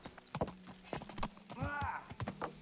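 Horse hooves clop in a brisk, uneven rhythm in the video game Kingdom Come: Deliverance, and a horse whinnies briefly partway through, with faint voices underneath.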